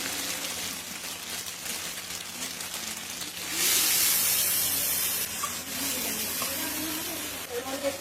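Ginger and garlic paste hits hot oil in a pan with a strong hissing sizzle that flares up and then settles into a steady crackle, with a voice talking over it.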